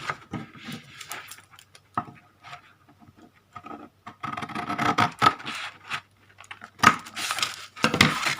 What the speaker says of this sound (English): And then I'm going to cut the corner, the top left hand corner one off.